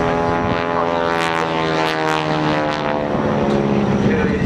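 A North American T-6G Texan flying a display at Shoreham, its radial engine and propeller droning steadily and loudly with a harmonic buzz, while a voice talks over it.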